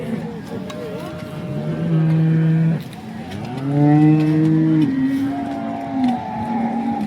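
Long, drawn-out lowing from cattle at a cow market rises and falls in a couple of sustained calls, with people talking nearby underneath.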